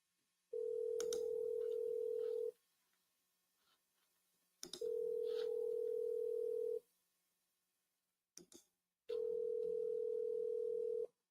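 A voicemail recording tone plays on a forwarded phone call: three long, steady electronic tones, each about two seconds, separated by quiet pauses and a brief click.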